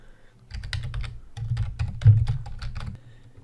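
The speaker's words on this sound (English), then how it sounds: "So I'm going to start typing." Rapid typing on a computer keyboard while writing a Python program: dense clusters of close, crisp key clicks in two quick bursts, with no talking.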